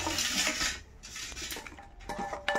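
Spoon clinking against plates and dishes while food is served onto a thali with egg, a steady run of close metallic chinks and clatter with no talk.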